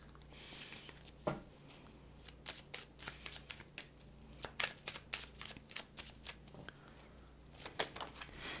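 Oracle cards are shuffled by hand in a quiet room, a series of soft, crisp riffling bursts and flicks coming in irregular clusters, close and fairly faint, with no talking.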